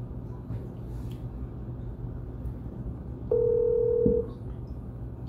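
A telephone, faint under quiet room noise, gives a brief steady dial tone of about a second, ending in a short click, with no talking over it.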